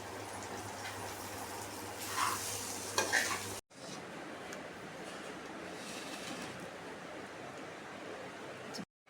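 Egg rice stirred in a pan gives a low, even rustling sizzle with a few louder scrapes of the spatula early on, then a brief break before the quieter stirring continues, no one speaking.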